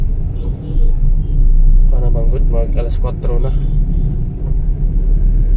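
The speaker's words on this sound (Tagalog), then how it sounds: "Ah, medyo traffic gamay, guys." Road traffic rumbles in a constant low drone around a person riding through it, with someone talking over the steady engine noise.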